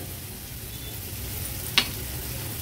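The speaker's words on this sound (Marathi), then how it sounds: "व्यवस्थित ही चटणी आपल्याला परतून घ्यायची आहे।" Chutney sautéed in a pan with a pinch of turmeric and salt sizzles steadily up close, with a single sharp clink of a spoon or spatula partway through.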